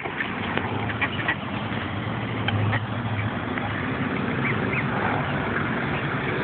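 Ducks quacking at the Temecula Duck Pond, scattered calls rising out of a steady outdoor background wash, moderately distant with occasional louder honk-like notes.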